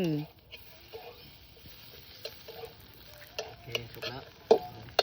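Spatula stirring and scraping eggs as an omelette fries in a pan, intermittent clinks and soft sizzling, while a child's and an adult's voices chatter nearby.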